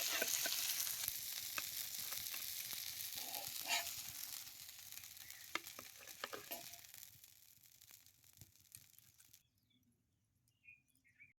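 Pomfret fish roasting on a fine grill over the fire, a steady close sizzle and crackle with scattered pops that fades gradually and drops to near silence near the end.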